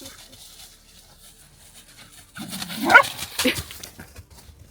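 Dogs on a walk in the Vienna Woods give a burst of whiny yips and short barks, close by and moderately loud after a quiet stretch of rustling outdoor ambience.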